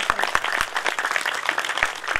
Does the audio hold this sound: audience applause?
yes